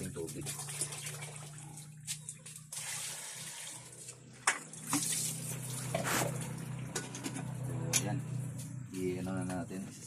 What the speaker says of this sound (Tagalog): So lagyan na natin ng kunting tubig.